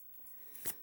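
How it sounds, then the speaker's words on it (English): A brief, soft riffle of tarot cards being shuffled, a quiet papery rush peaking near the end of a short, otherwise hushed moment. "One more shuffle."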